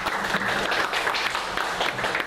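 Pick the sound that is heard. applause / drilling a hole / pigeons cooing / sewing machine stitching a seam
applause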